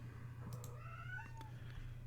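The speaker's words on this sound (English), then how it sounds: "The cats are singing because they are full of joy." Cats meow faintly in a few short rising calls over a steady low hum, quiet and somewhat distant.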